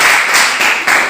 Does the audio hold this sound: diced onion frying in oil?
no